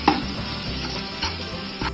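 Mint leaves sautéing in a pan with softened onions and salt for mutton dum biryani, a steady close sizzle with stirring scrapes and a few sharper clatters, no talk.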